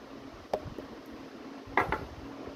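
A transparent drinking glass is handled on a table for a sugar-dissolving experiment, giving two faint clinks and knocks of glass and utensils against a quiet room background.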